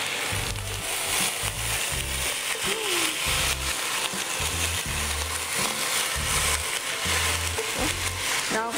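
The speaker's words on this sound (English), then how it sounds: "once you can see the sides of the fish turn white or opaque," Tilapia fish frying in a Fricomix multicooker, a steady close sizzle running throughout, with intermittent low rumbling bursts and faint handling noises.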